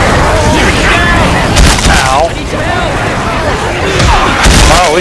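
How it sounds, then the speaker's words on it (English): A pipe bomb exploding in a video game, a series of heavy booms and rumbling blasts under loud, chaotic game sounds and shouting voices. "Throwing a pipe bomb!"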